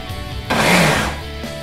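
A short burst of mixer grinder grinding coriander paste with water, loud and dense, starting abruptly and cutting off after about a second.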